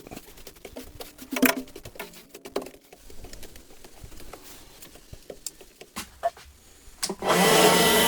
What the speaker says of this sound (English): using a vacuum cleaner like this right here is you get a lot of dust everywhere